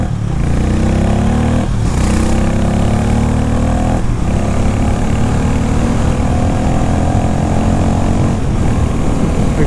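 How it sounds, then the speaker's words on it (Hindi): A Harley-Davidson X440 cruiser under way, its engine and exhaust droning steadily with rising pitch sweeps as it accelerates through gears, punctuated by a few brief shift breaks, loud and close with no talking. "एग्जॉस्ट नोट बहुत ही सूदिंग और बेसी है।"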